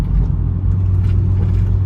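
A BMW car with a tuned N54 engine cruises through a canyon, heard from inside as a steady low engine drone and road rumble with no other sounds.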